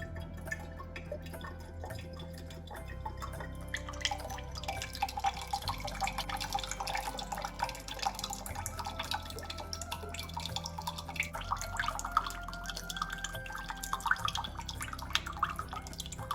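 Coconut water dripping from a large coconut into a glass, a quiet, close series of small irregular drips and trickles over a low background hum.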